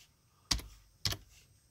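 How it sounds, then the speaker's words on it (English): Two distinct clacks of keys on a computer keyboard as a web address is typed, spaced about half a second apart, close and fairly quiet with a low hum between them. "You can actually just type right in here a web address."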